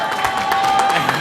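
A crowd claps and cheers for Diana at a lively birthday celebration, with continuous dense applause and whoops carrying through the whole short stretch.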